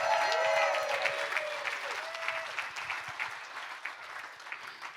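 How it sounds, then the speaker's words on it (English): A crowd at a fundraising gala applauds a guest: full, dense clapping that starts loud and gradually thins and softens, with a brief voice at the very start. "Let's give him a round of applause."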